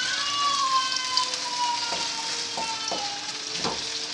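Onion and tomato paste sizzle steadily in a wok for a French-style chicken spaghetti sauce, a close, even frying hiss broken by a few scraping stirs.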